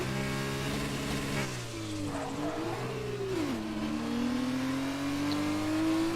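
An F2 race car engine in a sim racing game at Zandvoort, a buzzing, harmonic-rich drone whose pitch climbs, dips sharply at a gear change and then rises again steadily, heard alone at moderate level.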